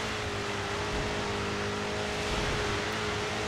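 Race car engine from the driving game GRID 2, a steady, loud drone with a sustained tonal hum that holds at an even pitch with no pauses, mixed with road and tyre rumble and no voices.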